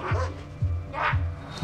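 A dog barks repeatedly at a door in an apartment building during a police visit, four clear, fairly loud bow-wow barks in a steady rhythm, close by with no talking over them.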